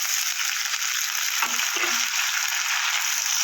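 Raw green tomatoes and potato pieces frying in mustard oil, a continuous close hiss with a couple of brief scraping stirs in the middle.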